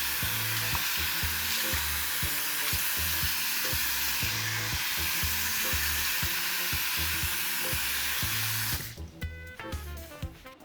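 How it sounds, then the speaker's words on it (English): Running water from a bathroom sink tap rinses the basin in a steady, close hiss that continues for several seconds, then cuts off into dripping and faint handling sounds. "I'm going to rinse this down."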